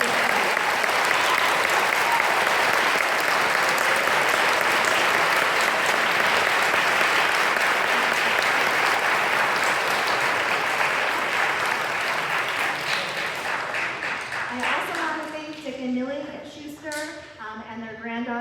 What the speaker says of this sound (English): audience, please join me in a round of applause to thank the men and women who bravely served our